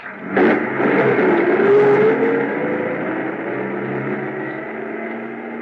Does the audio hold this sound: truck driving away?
yes